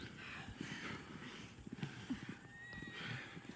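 A horse in the Red Dead Redemption 2 video game whinnies and clip-clops, with hooves thudding steadily under a short neigh and a continuous outdoor ambience.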